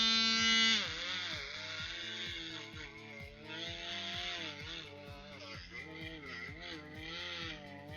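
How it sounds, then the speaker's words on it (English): A high-pitched power tool whines close up as it works on a Mustang GT 350 H scale model car, its pitch rising and dipping like a dentist drill, with a voice talking over it. "Sounds like the dentist drill, doesn't it?"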